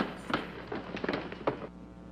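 An explosion sound effect from the 1950s film Invasion of the Saucer Men, heard as a short run of crackling, popping bursts that fade out after about a second and a half.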